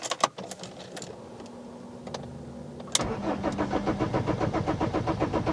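A BMW E46 3 Series cranks and fires up after a fuel pump replacement, with a few clicks, then a cranking whir that catches into a steady, close idle, with no talking.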